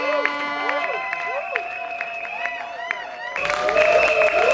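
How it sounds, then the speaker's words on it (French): Audience applause and crowd noise at an autism association's gala evening, rising toward the end beneath prominent musical tones that dominate most of the clip. "Sous vos applaudissements, s'il vous plaît."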